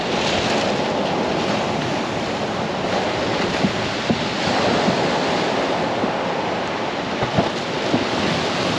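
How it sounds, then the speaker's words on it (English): Sea waves hit behind a groyne and splash back over the top on a shoreline during a fishing session, giving a constant loud wash of surf with wind noise and occasional sharper splashes. "The waves are hitting behind this groin and splashing back over the top now."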